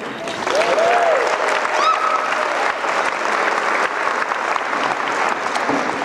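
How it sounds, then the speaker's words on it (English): Crowd applause at a university fall commencement ceremony, broad and sustained throughout, with faint whistles and cheers rising through the clapping. "Please keep clapping"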